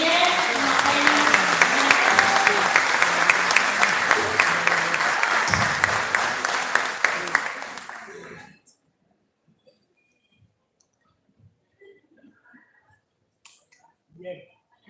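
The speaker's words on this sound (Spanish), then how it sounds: "Otro aplauso" An audience at a university panel event applauds loudly and densely for about eight seconds. The clapping then cuts off into near silence broken by faint, scattered rustles.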